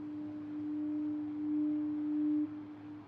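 A low, steady foghorn tone drones for about two and a half seconds, faint and distant, then cuts off.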